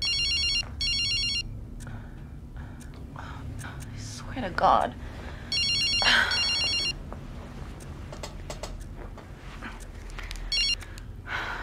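A mobile phone rings in repeated bursts of bright electronic tone, with pauses between the rings, while someone whispers and talks quietly nearby.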